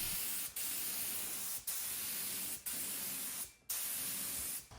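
Spray paint goes onto a piece of furniture in bursts of steady hissing, five separate passes each lasting about a second, with short gaps between them, fairly close and alone.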